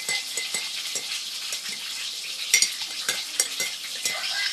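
Food for a child's packed lunch sizzling and frying in a pan, with a steady hiss under repeated clinks and scrapes of a utensil stirring, close and moderately loud.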